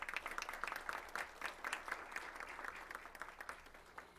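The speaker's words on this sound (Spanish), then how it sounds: "Un aplauso para Ruth" Audience applause at a university communication forum in Mexico City as a speaker takes the podium, a steady dense patter of many hands clapping, moderately near and continuing throughout without speech.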